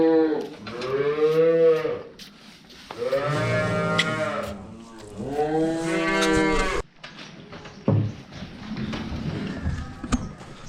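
Friesian cross heifer calves on a dairy farm give several long, loud, close moos in quick succession, followed by quieter thumps and rustling farmyard noise.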